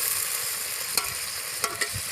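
Onions sauté in a pan for a country-chicken curry, a close, dense sizzle running the whole time, broken by a few brief scrapes of a spoon.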